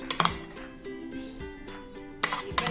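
Ice cubes clinking against each other in a bowl, several sharp bright clinks at the start and near the end, close and fairly faint, with a soft ringing tone lingering between them.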